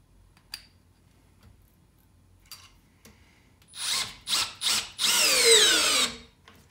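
Milwaukee M12 half-inch hammer drill/driver on speed 2 in drill mode, driving a 1/4-inch by 4 screw: a few short bursts, then a longer, loud continuous whir that cuts off as the tool shuts itself down, with faint ticks before.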